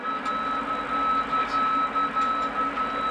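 A steady tone pulses in rapid, evenly spaced beeps over a low engine hum inside a cockpit.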